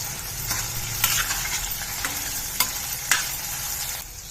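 Vegetables fry in hot oil in a kadai, giving a steady close sizzle broken by sharp scraping clicks from stirring every half second or so, with no talking.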